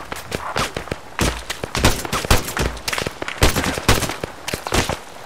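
Rapid, dense gunfire bursts crack repeatedly during a Bangladesh Army patrol firefight in hilly terrain, loud and close, with irregular volleys and thuds filling the whole stretch.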